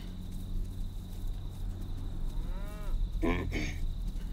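A single cow moos once near the middle, then gives a second, shorter call, both fairly close over a steady low farm hum, with no talking.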